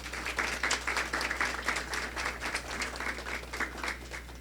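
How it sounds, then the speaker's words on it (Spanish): An audience applauds to welcome a speaker at a human rights forum. Steady, dense clapping goes on throughout at moderate volume under a constant low hum, with no talking. "un aplauso para él."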